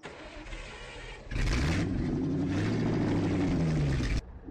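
A tractor engine in Farming Simulator 15 on the Massie, Ontario map cranks to life abruptly, then settles into a loud, steady mechanical drone before cutting off sharply near the end.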